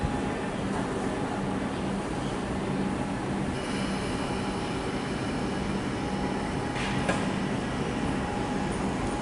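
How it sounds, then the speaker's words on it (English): A high capacity Metro train at Flinders Street station in Melbourne gives a steady, loud rumble and hum throughout, with a brief higher whine partway through and no one talking. "It's high capacity train set number 17."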